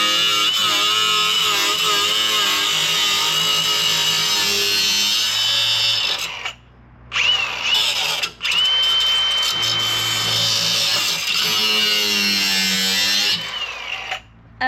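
A handheld power tool grinds metal while work is done on a Jeep Gladiator's rear inner fenders, a loud, continuous high whine that briefly stops and restarts twice before running on.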